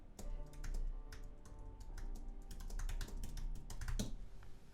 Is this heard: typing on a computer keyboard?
yes